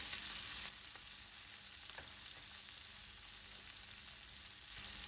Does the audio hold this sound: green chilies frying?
yes